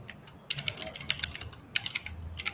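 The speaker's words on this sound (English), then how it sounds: "let's type something here" Fast typing on a computer keyboard during a Git coding session, with steady clattering key taps in bursts and brief pauses, fairly close and moderately quiet over a soft background hum.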